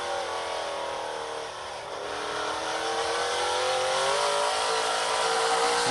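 An ARCA Menards Series race car accelerates out of a corner at Elko Speedway, its engine a loud sustained roar that dips briefly and then climbs steadily in pitch under throttle, up close with no talk.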